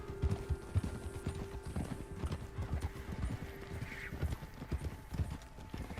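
Horse hooves clip-clop at a steady walking rhythm in the video game Red Dead Redemption 2, with faint tack rattles over quiet game ambience.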